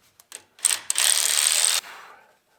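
A 10 mm ratchet loosening a bolt on the 2.7 turbo of a 2024 Ford F150: a few quick clicks, then a sustained close buzzing ratchet run of about a second that stops abruptly.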